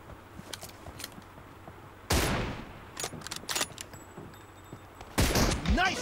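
Gunfire in a mobile shooting game, one-versus-one match with an M24 sniper rifle: two loud sharp bursts stand apart, one in the middle and one near the end, over scattered clicks and faint handling noises.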